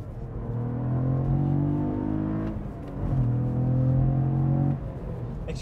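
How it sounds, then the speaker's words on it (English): Cadillac CT4-V Blackwing with manual gearbox blipping its engine during rev-matched downshifts, two rising-and-falling revs of a deep engine heard from inside the car, no talking over it. "And we do have rev match downshift"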